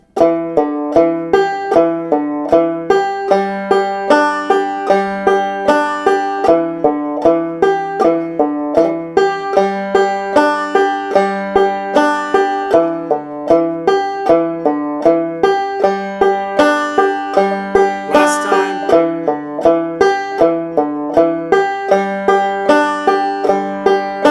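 Banjo picking a steady, even rolling pattern of bright plucked notes with fourth-string pull-offs and double thumbs, slow and repetitive, played solo with no talking.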